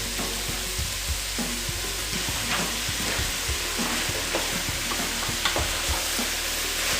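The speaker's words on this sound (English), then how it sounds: "And while it's browning, just going to occasionally stir it with a wooden spoon." Beef mince browning in a hot pan gives a loud, continuous close sizzle, broken by frequent scraping clicks as a wooden spoon stirs it, with no voices over it.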